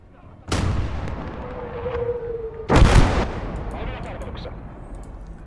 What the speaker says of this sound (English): Just bring some fire down into that area.